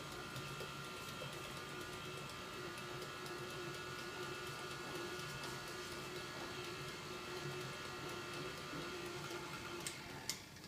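A mixer beats goat cheese cheesecake batter in a kitchen, a steady faint whirring drone with a rhythmic ticking mechanical texture, continuing evenly throughout with a small clunk near the end.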